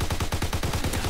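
Rapid automatic gunfire in a World War 2 video game, a steady loud burst of evenly spaced punchy shots, about a dozen in just over a second, heard close with no talking.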